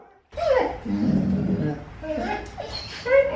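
A small dog whimpers and yips in short, rising whines, eager to go play with other dogs, close and fairly loud, with a voice talking over parts of it.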